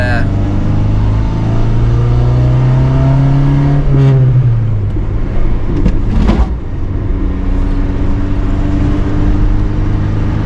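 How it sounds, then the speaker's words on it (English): A Suzuki Sidekick with a freshly replaced ball joint is driven on a short test run, its engine humming loudly inside the cabin and rising briefly in pitch as it revs, with a person talking over it. "taking it for a little test drive right now"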